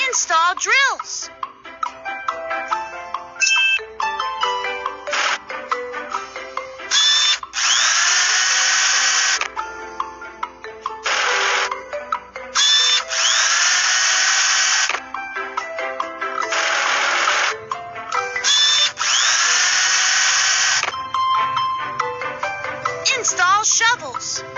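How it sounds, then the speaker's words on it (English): A cartoon excavator's drill attachment whirs loudly in repeated bursts of high, buzzing drilling separated by short pauses, with chimes and toy-like effects between them. "Install drills."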